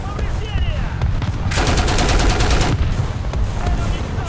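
Sustained machine gun burst from a tank in War Thunder ground realistic battle, a rapid rattling stream lasting over a second amid low rumbling engine noise and game ambience.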